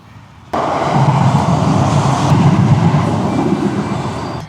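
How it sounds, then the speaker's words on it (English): A train arrives at a station, rushing in abruptly with a loud, steady roar and rumble of rail cars that continues without any talking. "Train's almost here."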